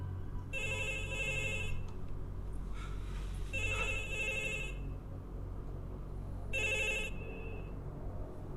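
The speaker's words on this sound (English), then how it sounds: "It was a loud-ass phone." A telephone rings loudly in three separate bursts of bright electronic trilling over a steady low rumble, with no one speaking.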